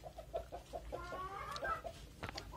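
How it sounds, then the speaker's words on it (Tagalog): A frizzle chicken clucking in a quick, steady series of short clucks, moderately close, with a brief higher call partway through. "Manok nga kulot."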